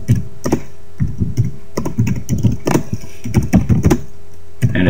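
Fingers tap on a computer keyboard while an email is composed in Windows Live Mail, with short irregular clusters of close, crisp keystrokes separated by brief pauses.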